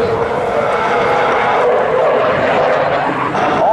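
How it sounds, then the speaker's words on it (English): A U.S. Navy F/A-18C Hornet fighter jet performs at an air show, its engine roar a loud, continuous broadband wash with a rising whine near the end, heard under a commentator's amplified narration. "we see the incredible thrust-to-weight ratio capabilities of the F-18 Hornet"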